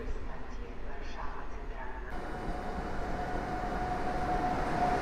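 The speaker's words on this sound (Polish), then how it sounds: "podstawia się Intercity Chopin EU 44010" The Intercity Chopin EU 44010 electric train pulls into a station in Warsaw, a steady rumble with a rising tonal whine, heard under outdoor background noise.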